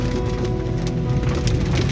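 Steady rain falls during a drive along a road near Manesar and Gurugram, a dense, continuous patter that stays loud and even throughout.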